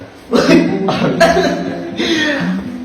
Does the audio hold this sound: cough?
yes